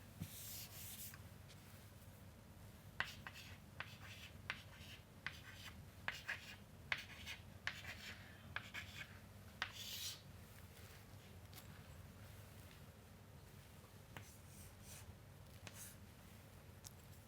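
A pen or marker draws a diagram by hand on a surface in faint scratchy strokes, with short taps and scrapes coming in an irregular rhythm over a quiet room hum; no talking.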